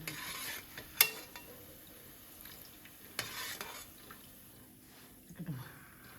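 MTR gulab jamun balls frying in oil, a faint steady sizzle and bubbling with occasional sharp clinks and stirring scrapes of a spoon turning them, close but quiet, with no voices.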